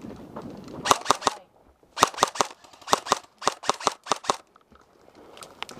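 Airsoft guns fire during an outdoor skirmish at the Yuma VFW. Sharp cracks come in quick clusters of three to five shots, separated by short pauses. A faint voice is heard at the start.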